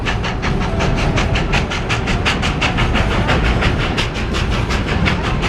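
A Georgetown Loop Railroad train in Georgetown, Colorado rolls along its tracks with a loud, steady rumble and a regular clickety-clack of wheels over rail joints, unbroken throughout and without voices.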